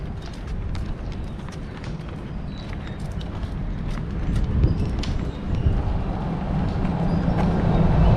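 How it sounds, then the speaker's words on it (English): A Clydesdale pulls a horse-drawn buggy at Port Orleans Riverside resort, Walt Disney World. Its hooves clip-clop in a steady rhythm over outdoor ambience, growing gradually louder as it nears. "up here is the horse and buggy"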